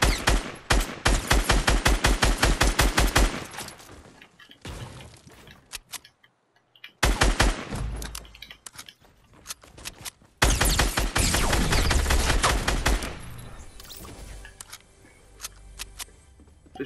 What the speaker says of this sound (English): Where the hell is this getting shot from?